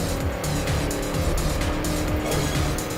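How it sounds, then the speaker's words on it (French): A car in the racing game Trackmania Turbo skids with a sustained tire squeal over a loud, steady engine roar, continuous for about three seconds with no talk. "Petit dérapage là"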